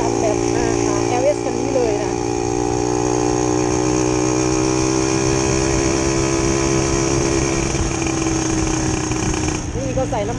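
LS125 motorcycle ridden through Patong at night, its engine droning steadily and loudly close by with wind rush throughout, the pitch rising and falling slightly as it changes speed.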